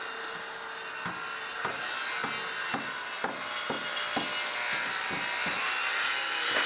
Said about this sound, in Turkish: Testere sesi geliyor size.